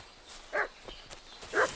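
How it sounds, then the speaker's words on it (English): A dog barks in the medieval video game Kingdom Come Deliverance 2, giving two short, sharp barks about a second apart at moderate distance against quiet ambient background. "What's that dog making such a fuss about?"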